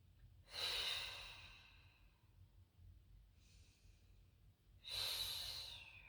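Slow, deliberate breaths during a core exercise: two long, close exhalations a few seconds apart with a softer breath between, in a quiet room.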